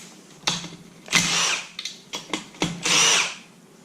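Bursts of an impact or power tool spinning off half-inch bolts from a TH350 transmission pan, several short whirring pulses with brief pauses, close and loud, no talk.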